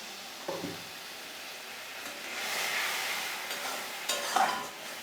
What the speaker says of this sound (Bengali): এবার আমি জল দিয়ে একটু কষিয়ে নেব